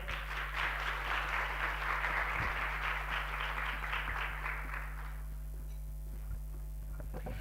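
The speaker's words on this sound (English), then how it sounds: "Please do give him a round of applause." Audience applause at a children's day celebration, a steady wash of many hands clapping for about five seconds before fading out, leaving a quiet room with low hum and a few stray claps.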